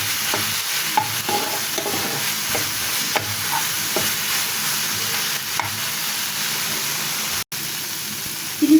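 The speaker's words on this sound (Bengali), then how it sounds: "এখানে আমি মাংসের কিমাটা ভাজা করে নিব" Minced meat for a chicken Mughlai filling fries in a pan with a loud, constant sizzle, punctuated by the spatula stirring and tapping, heard up close without any voices.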